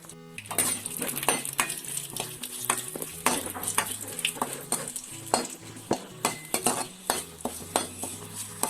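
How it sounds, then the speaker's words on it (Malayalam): Dried red chillies and curry leaves tempering in hot oil for an egg and cabbage thoran, a busy steady sizzle broken by sharp clinks and scrapes of a spoon against the pan, close up with no talk. "ഒപ്പം തന്നെ 2 വറ്റൽമുളക് കൂടി നമുക്ക് ചേർത്ത് ഒന്ന് താളിക്കാം."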